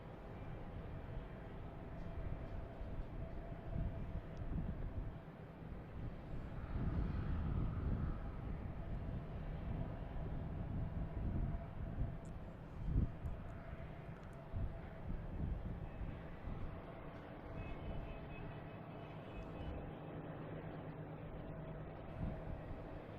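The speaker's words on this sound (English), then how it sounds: "Next to me is American Airlines and A321neo coming in from Dallas-Fort Worth." An American Airlines A321neo airliner arriving from Dallas-Fort Worth at Boston Logan Airport, heard as a steady, moderately distant jet roar that swells and holds across the whole stretch.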